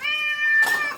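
A cat gives one sustained, tonal meow that holds steady and then breaks into a rougher, breathier ending, loud and close with no talking over it.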